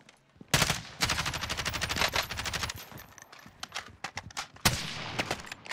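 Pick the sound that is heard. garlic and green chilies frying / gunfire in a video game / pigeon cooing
gunfire in a video game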